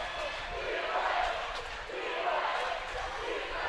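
Crowd noise swells in a gym during a 16-and-under boys basketball championship game, a steady roar of cheering and shouting with faint court sounds underneath.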